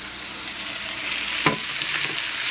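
A pot of chicken boils, bubbling and sizzling steadily at close range, with a brief stirring clatter in the middle.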